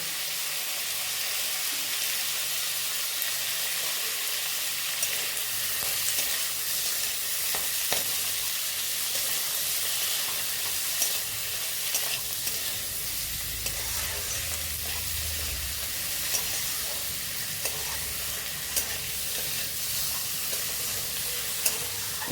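Curry leaves sizzle and crackle in hot oil while being stirred and fried for a sweet-sour chutney, a steady loud frying hiss with small pops and scraping strokes throughout.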